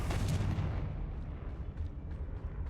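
A Confringo spell blast in the video game Hogwarts Legacy, a heavy booming explosion that hits hard at the start and rumbles on as a long, fading roar.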